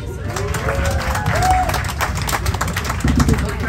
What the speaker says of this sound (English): let's go ahead and give them a big round of applause